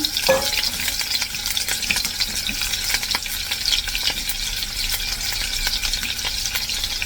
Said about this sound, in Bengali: চারটা চিংড়ি মাছ ভাজা করতেছি